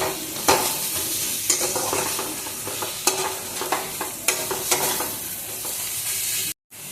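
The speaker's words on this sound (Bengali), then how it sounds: "এবার এই মশলাটাও এর সাথে ভালোভাবে কষিয়ে নেব" Minced meat masala with cumin and coriander powder frying in oil, stirred and scraped repeatedly under a steady loud sizzle, cutting off abruptly near the end.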